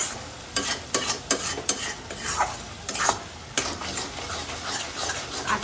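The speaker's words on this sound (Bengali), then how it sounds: "মশলাগুলো কষিয়ে নিলাম সুন্দরভাবে, মশলাগুলো কিন্তু একদম কষানো হয়ে যাচ্ছে।" Spices stir-fried in a pan for egg curry, a spoon scraping in a steady series of sharp strokes over a continuous close sizzle, with no talking.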